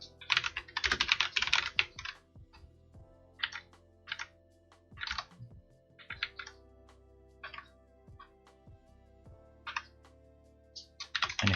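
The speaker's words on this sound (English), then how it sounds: "And if I type again here" Typing on a computer keyboard in irregular clusters of clicks and taps, fairly close and quiet, with no voices.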